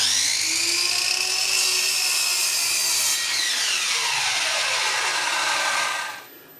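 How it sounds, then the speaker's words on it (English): A loud, high-pitched miter saw whines steadily as it cuts wood for a hardwood floor, shifting pitch partway through, then winds down and stops near the end. "I use a miter saw. It's real fast and accurate."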